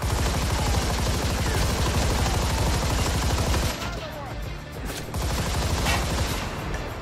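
Dense rapid gunfire in Army of Two: The 40th Day, loud and continuous automatic bursts that pause briefly midway, then resume.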